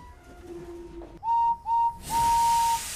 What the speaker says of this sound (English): there's Henry's whistle